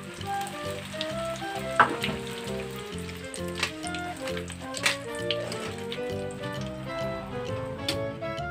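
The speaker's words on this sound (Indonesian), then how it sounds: "Oke, berikutnya saya goreng hingga selesai." Vegetable spring rolls (lumpia sayur) fry in hot oil, a steady close sizzle with crackling pops and bubbling throughout, with no talk.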